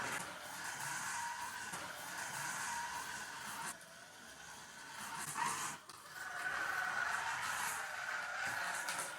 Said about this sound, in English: Now we're getting some tyre sounds. Tyres are warming up now. We're getting a bit of skidding.